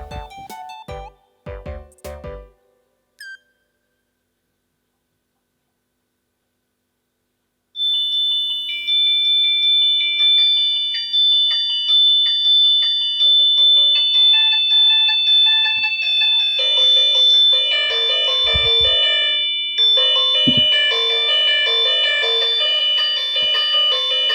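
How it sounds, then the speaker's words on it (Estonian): Shrill electronic alarm tones from a toy gamer phone with hundreds of built-in games, a sustained layered ringing that starts abruptly after a brief silence and keeps going loud and steady, with a few short knocks early on. "ma kardan, et need on väga paljud alarmid"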